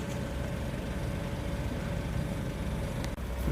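A vehicle rolls onto the Hawkesbury River cable ferry in New South Wales, giving a steady low engine rumble with broadband road and water noise throughout and a brief dip near the end.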